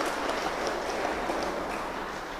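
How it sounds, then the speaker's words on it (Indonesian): Church congregation clapping hands during a Catholic sermon, a dense continuous wash of many hands, moderately loud and even throughout, with no speech over it. "Haleluya. Tepuk tangan."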